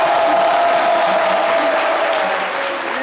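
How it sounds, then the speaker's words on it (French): A studio audience applauds on a French midday television show, steady dense clapping throughout, loud and close, with a faint sustained tone underneath. "Applaudissements"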